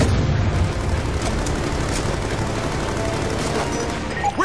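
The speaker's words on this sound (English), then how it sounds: "We're taking fire from snipers on the overpass!" A dense, continuous battle din of rapid gunfire and booming explosions from a Call of Duty Black Ops 2 mission under sniper fire on an overpass, loud and constant with occasional sharper cracks.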